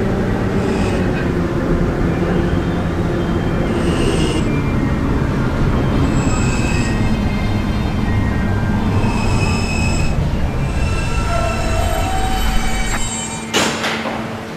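An R subway train at night runs steadily and loudly throughout, with high metallic wheel squeals recurring over a constant low rumble, ending in a brief clatter.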